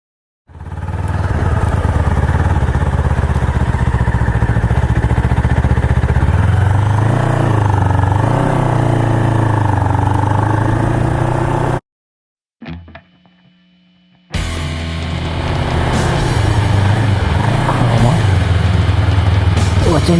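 Honda CBR250RR motorcycle engine while riding, a loud, close, steady high-revving drone with shifting pitch, cutting out briefly to near silence before resuming just as loud.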